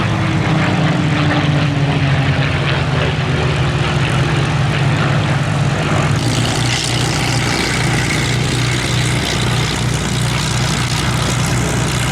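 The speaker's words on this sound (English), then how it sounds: "The three aircraft coming in now for their final pass." Three P-51 Mustangs with Merlin engines making a final low pass at the Duxford Battle of Britain airshow, a loud continuous piston-engine roar with shifting pitch as they sweep by.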